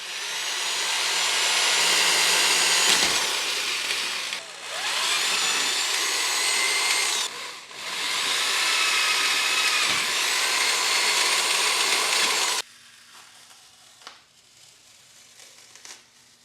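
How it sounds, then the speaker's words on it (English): A high, whining power drill bores pilot holes in a Jeep Gladiator's metal windshield frame, stepping up to 3/16 inch for rivets, in three long bursts with brief pauses, loud and close, then falls silent with faint handling noises. "drill pilot holes and step up to 3/16 for rivets"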